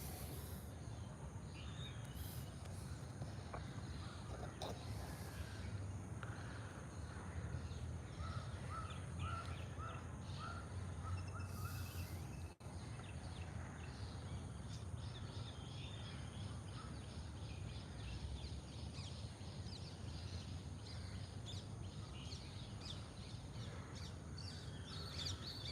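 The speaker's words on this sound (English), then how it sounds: "So the birds are going actively foraging now from the time of the dawn chorus." Birds call at dawn in an old war cemetery in central Colombo, with crows cawing and smaller birds chirping at a distance over a steady background hum, faint and continuous throughout.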